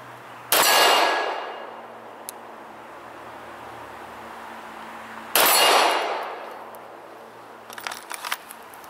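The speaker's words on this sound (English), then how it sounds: "I'm able to get hits, right, 12-inch gong with a pistol" Pistol rounds striking a 12-inch steel gong at 20 yards ring out as two loud metallic clangs several seconds apart, each decaying slowly into a long shimmering hum, with faint clicks near the end.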